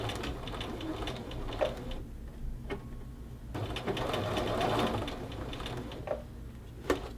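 A sewing machine stitches a seam on a men's shirt cuff, its rapid mechanical whir running in bursts with brief pauses and clicks, close and fairly loud, no speech.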